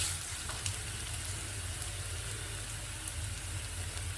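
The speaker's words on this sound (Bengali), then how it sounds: "পেঁয়াজটা অলরেডি ভাজা ভাজা হয়ে গেছে। এবার আমি আগে বলেছিলাম তোমাদের, আমি এখানে একটু রসুন পেস্ট দেবো, সেটা দিয়ে দিলাম।" Onion and garlic paste frying in a pan, a continuous close sizzle with a soft crackle, steady and fairly quiet, with a few faint clicks and no voices.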